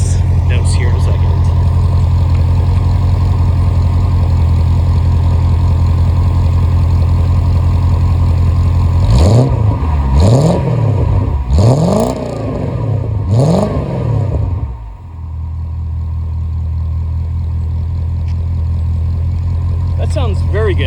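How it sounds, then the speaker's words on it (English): A 1983 Mercedes-Benz 500SEL with an M117 engine idles with a steady, deep exhaust note. It is then revved in a few sharp blips and settles back to a smooth idle, heard close and loud. "we're gonna listen to some exhaust notes here in a second."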